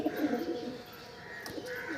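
Pakistani teddy pigeons coo softly nearby in a loft, a low throaty burble at the start and another brief coo a moment later.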